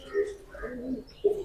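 A black-faced Sialkoti pigeon coos in short, soft, low bursts close by, with a brief louder coo near the end and voices speaking around it.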